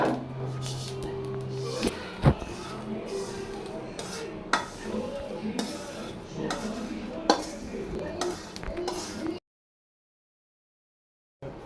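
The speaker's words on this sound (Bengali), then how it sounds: "ব্লান্ডারের জারে পাঁচফোড়নগুলো ঢেলে দিলাম" Panch phoron spice seeds tumble into a blender jar with scraping and clinking of a utensil against metal and dishes, close and busy, then it cuts to silence near the end.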